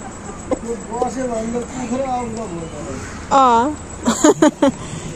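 Chickens cluck near a rural home in Simara-Jeetpur, Bara, with repeated short rising calls among voices, followed by a few sharp knocks.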